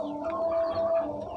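Country chicks on a poultry farm give a brief, faint tonal peep-like call, a single short sustained chirp against a quiet background.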